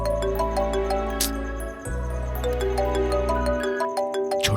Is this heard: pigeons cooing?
no